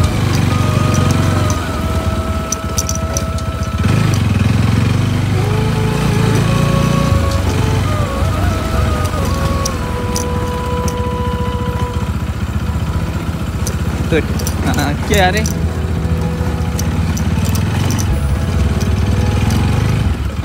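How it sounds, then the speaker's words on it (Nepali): A motorcycle ridden off-road on a dusty, rutted track in fourth gear at low speed, its engine droning steadily and loudly throughout while people talk briefly over it. "सचिनले चाहिँ 4 गियरमा 20 स्पिडमा चलाइरहेका छन् बाइक अफ रोडमा पनि"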